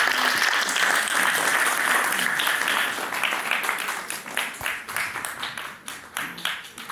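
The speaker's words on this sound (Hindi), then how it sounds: "इनके सफलतम उद्देश्य के लिए आप सब जोरदार जोरदार ताली ताली बजाइए" A crowd claps together at a cultural festival event, loud sustained applause that thins into scattered, uneven claps toward the end, with a voice faintly heard under it.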